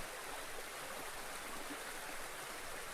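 A steady rush of stream water flows on without pause, a broad even wash of sound that stays close and continuous with no voices over it.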